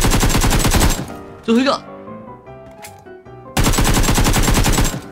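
Loud bursts of automatic rifle fire in the battle-royale game Peacekeeper Elite, one long volley, a pause with a brief spoken remark and scattered game sounds, then a second sustained burst.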